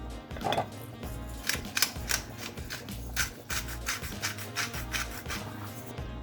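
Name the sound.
stirring spaghetti in a pot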